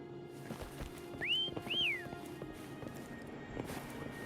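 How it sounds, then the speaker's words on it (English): In the video game Wuthering Waves, two short rising-falling whistles sound in quick succession to call a mount, clear over quiet ambient game sound with faint footsteps. "Try whistling."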